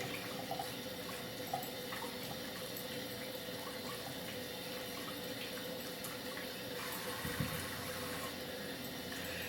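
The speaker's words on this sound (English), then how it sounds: "I'm washing the potatoes, Char." Potatoes being washed under a running kitchen tap, a steady, fairly quiet stream of water with faint splashes and occasional soft knocks against the sink, no voices.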